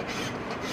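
Safe-sided file working metal on a CVA Hawken muzzleloader build, one brief, continuous, close rasping stroke with no voice over it.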